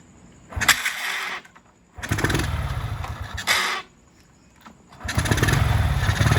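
A carbureted Honda XRM 110 motorcycle engine is started close up, catching in three loud running bursts separated by short pauses, with a buzzy idle rumble each time.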